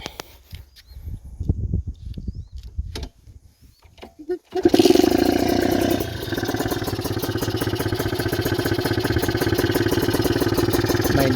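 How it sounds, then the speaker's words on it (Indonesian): Kawasaki Ninja RR two-stroke engine fitted with an Arrow exhaust, open air filter and PWK carburetor, starting after a few seconds of quiet handling noises and then idling loudly with a rapid, steady, raspy crackle. "coba cek sound Arrow dan pakai open filter ya."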